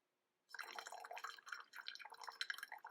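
Water slowly pouring in a thin stream from an OXO electric gooseneck kettle, a steady close trickle with light splashing that starts after a short silence and runs on without talk.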